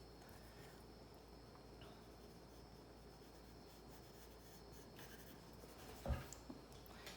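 Pencil drawing and shading on paper, a soft, continuous scratchy rub of graphite strokes, faint and close, ending with a brief tap or knock.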